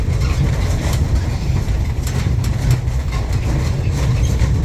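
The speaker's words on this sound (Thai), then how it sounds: "สั่นสะเทือนนะคะรถเรารถรางเรานะคะ" A tram rolls along its rails through a French town, giving a steady, loud low rumble with faint rhythmic rattling and clicking over the wheels throughout.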